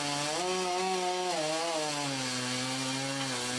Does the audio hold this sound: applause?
no